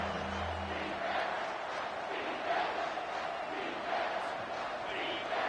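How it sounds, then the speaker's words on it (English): Loud football stadium crowd roaring on third down during a college football game between Ohio State and Texas, a sustained dense wall of cheering and yelling with swells throughout. "Decibels rising as the crowd gets behind this defense on third down."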